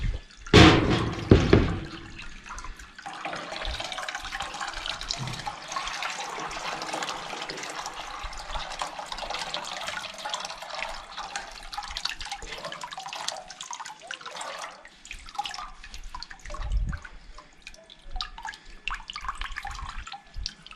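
Homemade sumac sour liquid strained in a village kitchen, with a sharp clatter near the start, then a steady trickling and dripping that runs on, fairly close and even, with no talk.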